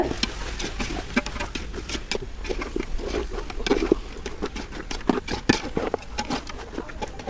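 A spoon scrapes and mixes chili powder and salt into duck biriyani masala in a pot, busy close stirring clatter over a low sizzle, with irregular sharp knocks against the vessel.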